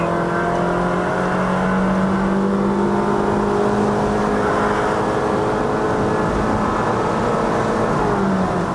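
A Honda Shuttle 1.5L i-VTEC accelerates at full throttle on a road in Malaysia, its engine droning steadily and climbing in pitch with a continuous whir for several seconds.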